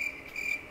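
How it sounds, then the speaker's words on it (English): Cricket chirping added as a sound effect, a steady high trill in two short bursts, faint and continuous through the brief moment with no talking. "put that cricket sound there"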